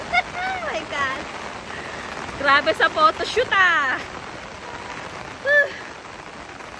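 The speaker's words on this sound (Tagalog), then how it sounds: "Sa sobrang lakas ng ulan." Heavy rain pours down in a constant roar in Bali, Indonesia, with thunder, while people talk and exclaim over it.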